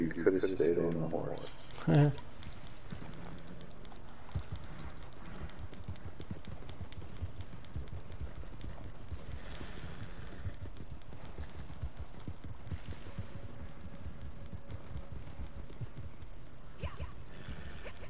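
Rhythmic clip-clop of horse hooves in the video game Red Dead Redemption 2 runs steadily throughout, with a few brief voices and sounds near the start, moderately loud and continuous.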